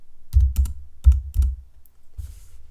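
Keys clicking as letters are typed on a computer keyboard, with the enter key pressed between them: a few sharp, close taps in small clusters, then a softer final press in a quiet room.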